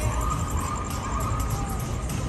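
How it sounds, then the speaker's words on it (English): An ambulance siren wails steadily and loudly over street noise on the Las Vegas Strip on a Saturday night, heard nearby among crowds and traffic. "Ambulance trying to make its way through on a Saturday night."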